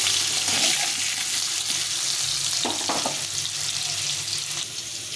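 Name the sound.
potatoes frying in oil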